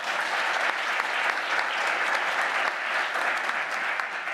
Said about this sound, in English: So you have one more round of applause for them as they leave the stage